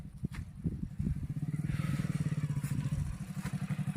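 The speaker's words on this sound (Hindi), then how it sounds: "बाइक की आवाज़ आ रही है" A motorcycle engine runs nearby in an open, deserted spot along the Narmada riverbank, a steady low rumble with rapid firing pulses that swells slightly and holds loud for several seconds.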